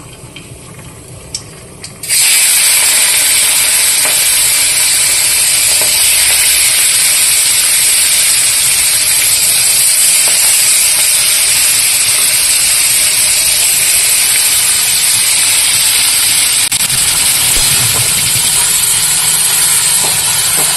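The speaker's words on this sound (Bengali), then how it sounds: "এবার আমি প্রথমে মাছটা ভেজে নেব, তারপরে কুমড়ো দেবো" Fish hits hot oil seasoned with nigella seeds and bursts into a loud, sustained hissing sizzle after a quieter start, continuing steadily and close without letup.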